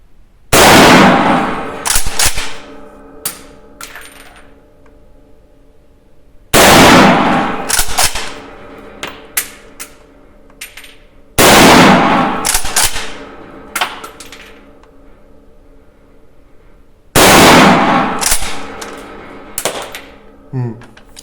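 Four loud, sharp Schmidt-Rubin K11 rifle shots fired outdoors, evenly spaced about five seconds apart, each a cracking blast followed by metallic clatter and echo, with a voice talking between shots.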